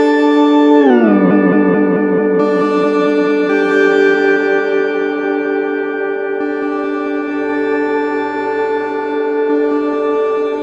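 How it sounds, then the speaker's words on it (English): A sustained Liven Ambient 0 synth chord glides down in pitch, then swells into a long, shimmering wash of reverb and echoing delay with bright overtones. "And then you add shimmer. So it has super long reverb tails"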